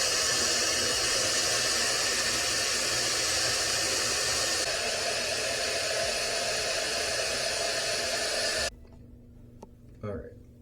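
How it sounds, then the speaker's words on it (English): A hair dryer blows steadily on a hairpiece, a loud, continuous broadband whoosh for about nine seconds that cuts off abruptly, leaving a quiet room with a brief soft bump afterward. "Now we blow dry."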